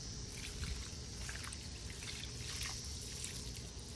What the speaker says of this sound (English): I'm just going to slowly just make sure that it's watered with this thoroughly